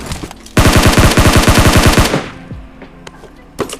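Gunfire in the PUBG Mobile video game: a loud, close rapid burst of about fifteen shots lasting around a second and a half, followed by a few scattered single shots.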